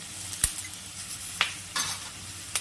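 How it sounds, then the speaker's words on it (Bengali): Potatoes frying with a spice paste of chili powder, salt and slit green chilies in a pan for aloo posto, giving a steady close sizzle broken by a few sharp clinks of a stirring utensil. "এবার আমি এটাকে ভালো করে ভেজে নেব আলুর সাথে মশলাটাকে।"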